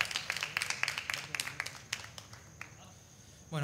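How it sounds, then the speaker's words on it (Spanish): Sparse clapping from a festival crowd greets a power-trio rock band, quick claps that thin out to a few scattered ones, ending in a brief low burst. "Fuerte el aplauso."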